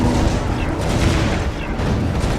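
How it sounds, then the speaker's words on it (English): Red cannons firing in Defense Grid make a dense, continuous roar of booming, rumbling shots, loud and unbroken throughout. "those red cannons really helped out"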